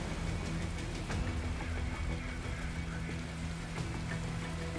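Light rain pattering outdoors, a constant soft wash of drops with occasional crisper taps and a faint low rumble beneath, no voices.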